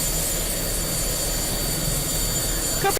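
A twin-engine ATAK attack helicopter runs steadily after start-up, a loud, continuous turbine whine and roar close by, with no voices over it.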